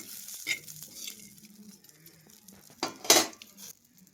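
Green chillies, garlic and cumin drop into a hot oiled pan, giving a soft sizzle with a few clinks of utensil against metal, then a louder burst of frying and stirring near the end.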